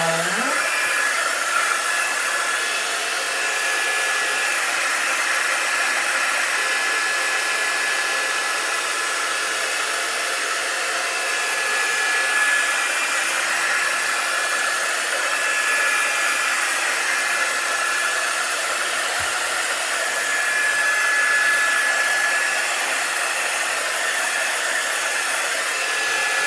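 A hair dryer blows steadily and loudly for the whole stretch, a constant airy roar with no pauses.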